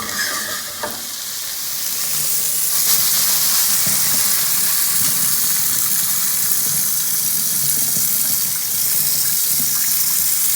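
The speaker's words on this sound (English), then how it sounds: "you want to let the water continue to run to wash away that grease away from the house" Tap water runs steadily and loudly into a sink to wash grease from hamburger meat down the drain, a constant hissing rush that continues without a break from start to finish.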